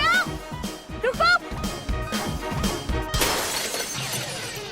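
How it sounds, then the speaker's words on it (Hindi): A glass pane on a principal's office shatters in a sudden loud crash of breaking glass that follows shouting voices and a few thumps, with the tinkling spray of shards trailing off afterward. "ओह शिट, प्रिंसिपल के ऑफिस की कांच तोड़ दी।"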